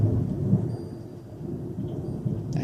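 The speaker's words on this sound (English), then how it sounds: "So that's what you just heard, thunder." Thunder rumbling during a storm with rain, a low continuous roll heard from a distance, fairly faint, alone with no voices.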